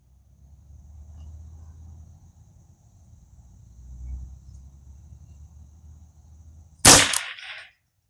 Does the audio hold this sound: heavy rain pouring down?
no